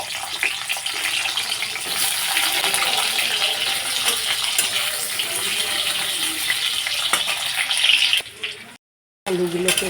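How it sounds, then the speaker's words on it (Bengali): Potatoes frying in mustard oil, a loud dense crackling sizzle running steadily and briefly dropping out near the end before resuming. "আলুগুলোকে একটু লালচে করে ভেজে নিচ্ছি।"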